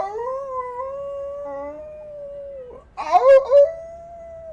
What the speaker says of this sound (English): howling noise coming from somewhere behind the sort of residential block of the inn